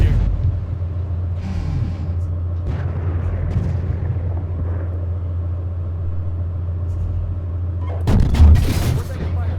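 Tank gunfire booms in the Steel Beasts ProPE tank simulator during a battle in bocage country, with a low engine rumble running throughout and a loud, heavy blast near the end.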